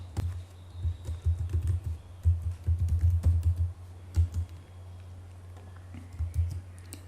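Someone types network configuration commands on a computer keyboard, with close, crisp keystrokes in quick irregular bursts followed by a quieter stretch and a few final taps.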